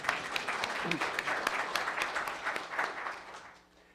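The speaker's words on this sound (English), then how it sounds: "Let's applaud for him anyway." Conference attendees at an international policy meeting applaud, a fairly loud burst of mixed claps that fades out over about four seconds.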